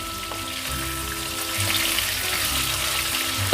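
Katla fish pieces frying in a pan for a mustard fish curry, giving a steady, loud, close sizzle with a dense crackle that holds throughout without pause.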